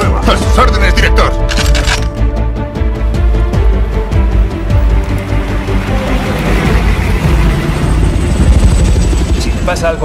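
A helicopter in a Spanish-language action film hovers with a steady low rotor drone throughout, mixed with loud score, impacts and effects, while voices speak over it.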